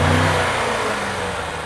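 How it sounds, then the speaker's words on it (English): A BMW M5 CS engine revs up, a loud, steady mid-pitched roar with strong low harmonics that holds and eases slightly over a couple of seconds, close by with no talk. "Give it some revs."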